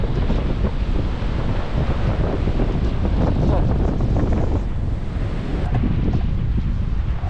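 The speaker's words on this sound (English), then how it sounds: "There's a very big waves." Big waves crash on a windy beach in rough sea, a loud, continuous roar of surf with heavy wind buffeting the microphone throughout.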